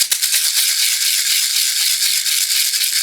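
Rawhide rattle, an ayacachtli with sand inside, shaken continuously in a fast hissing swish, bright and close with a steady rhythm and no voices.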